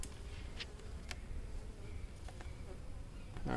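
Honey bees hum in a low, steady drone around an opened hive, faint and continuous, with a few light clicks and knocks from handling the hive.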